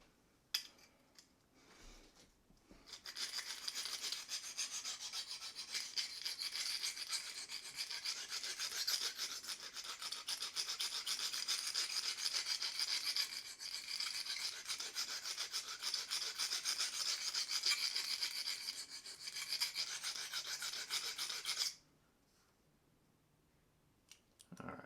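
A Simmons broadhead is sharpened to build a burr, with a fast, continuous rasping file stroke that runs steadily close up for about twenty seconds, then stops abruptly, with no talking.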